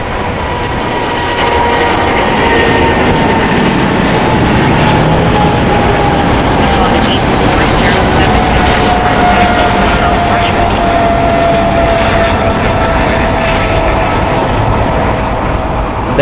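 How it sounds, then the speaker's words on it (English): A four-year-old ANA Cargo Boeing 777 freighter takes off from LAX bound for Tokyo Narita, its loud, sustained jet engine roar rising after a second and holding strong with a slowly falling whine across sixteen seconds. "That was ANA Cargo, Flight 8407, going to Tokyo Narita. Boeing 777 freighter, 4 years old."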